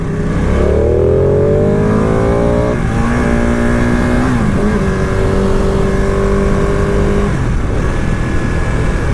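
A Ducati Panigale 959 Corse on standard exhaust pipes revs loudly up close, its engine note sweeping upward and holding in sustained blasts before dropping off near the end.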